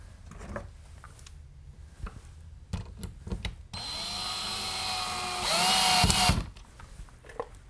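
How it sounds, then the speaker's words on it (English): Power drill driving screws into a wooden wall stud, two sustained whirring runs, the second louder and strained, preceded by scattered knocks and handling clatter. "Go ahead and put a couple of screws into the stud right here"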